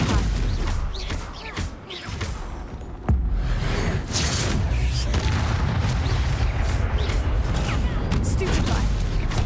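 Stunning-spell blasts from combat in the Hogwarts Legacy video game, a run of sharp booming impacts over busy battle noise, with a voice calling out spells.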